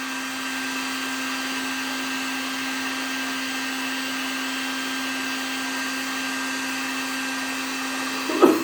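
A Harbor Freight heat gun runs steadily, a loud constant fan whir with a fixed motor hum, close by and unbroken until a brief clunk at the end.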